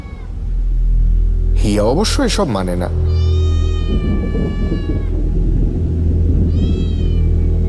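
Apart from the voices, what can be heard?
cat crying, meowing under the stairs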